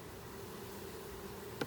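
Honeybees buzz at an open hive during an inspection, a steady, continuous low hum held at moderate distance, with a brief sharp tap near the end.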